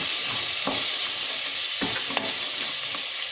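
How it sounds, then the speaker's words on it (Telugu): Carrot pieces fry on low heat in a pan, giving a steady soft sizzle with a few brief scraping stirs, close and alone without any voices. "కొద్దిగా సిమ్లోను వేగించుకొని"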